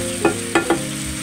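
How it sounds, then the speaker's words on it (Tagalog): Crabs bubble and simmer in butter in a pan, a steady dense hiss with three short scraping stirs close by, no voices. "isisimmer na muna natin siya ng ilang minuto para man ma-absorb ng crabs yung ating butter"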